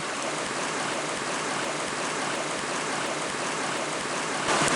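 A river flowing beneath a small footbridge along a hiking trail, heard as a steady, even rushing of water that continues without a break.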